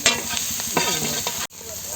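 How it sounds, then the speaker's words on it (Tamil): Onions and turmeric being stirred in a pan for chicken samosa filling, a steady sizzle with spoon scrapes, cut by a brief dropout near the end. "இப்போ நம்ம வந்து கிண்டலாம்"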